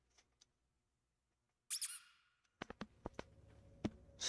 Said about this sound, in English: Squeaky duck?